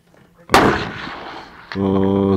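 One sharp, loud crack of an ISSC SPA .22 LR rifle aimed at targets 150 metres away, followed by a short decaying tail and then a steady tonal hum.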